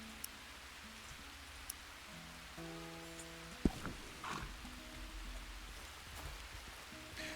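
Rain falling in Red Dead Redemption 2, a soft even patter of drops under faint tonal game music, with a single sharp knock partway through and no speech.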